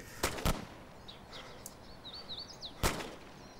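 Three sharp cracks of gunfire in the video game DayZ (Arma 2), two close together then one more a few seconds later, faint and distant from about 950 meters away, with thin chirping sounds in between.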